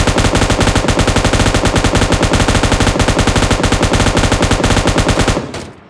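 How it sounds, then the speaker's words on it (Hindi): Sustained automatic gunfire aimed at a moving buggy in a shooter game, a loud, unbroken rapid stream of shots that cuts off near the end, leaving a brief fading tail. "अब ये बग्गी जाती है तो हम इस पर फायरिंग करने की कोशिश करते"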